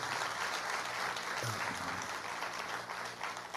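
An audience at a live stage program breaks into sustained, dense clapping that holds at an even level throughout, with a faint murmur of crowd underneath.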